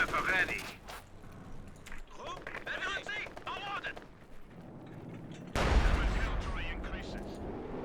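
Artillery and gunfire in a Company of Heroes 2 match, with scattered shots and bursts under commentary voices, then a loud heavy barrage of base-to-base artillery fire rumbling in during the second half.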